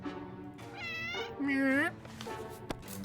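A cat meows in the video game 60 Seconds! Reatomized, with a few drawn-out, rising and falling meows in quick succession, clear and close over a quiet background.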